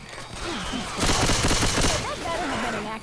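Rapid bursts of gunfire in a multiplayer shooter game, a fusillade of close, loud shots packed into about a second, with players' voices talking around it.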